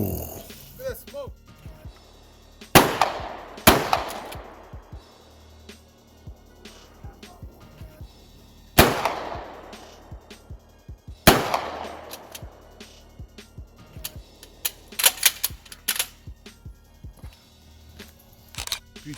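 A DP-12 double-barrel semi-automatic shotgun fires at an outdoor gun range, several sharp, loud, isolated booms with ringing decays spaced seconds apart, among quieter clicks and handling noises, with people talking nearby.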